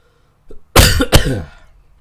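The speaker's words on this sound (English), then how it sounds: "Might have got a handle on coughing." Coughing from a player in a Farming Simulator 22 session: a short throat noise, then two loud, close hacking coughs in quick succession that trail off, with no talk over them.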